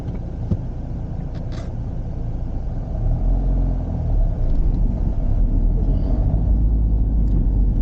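A car engine, heard while a learner driver practises starting without stalling, gets more throttle and rises from a low idle rumble to a louder, steady drone about halfway through, close and continuous.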